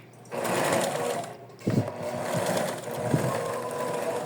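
Sewing machine stitching the beige fabric edge of a fox plush lovey, running in steady, close, continuous bursts with a brief pause near the middle and a few sharper clicks, no talking.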